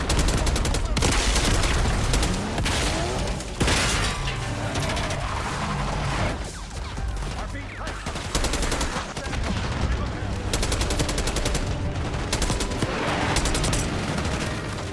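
Dense, continuous gunfire in the Call of Duty Black Ops 6 video game, with rapid automatic bursts and overlapping shots that stay loud and close throughout, mixed with battle noise.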